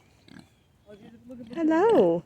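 A Kunekune pig on a farm on Long Island gives a close, rising and falling grunt-squeal near the end, with a person greeting it just before.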